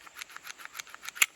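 A Springfield Armory Hellcat Pro pistol slide is racked close by with faint, rapid, gritty scraping clicks in an uneven rhythm, ending on one sharper click.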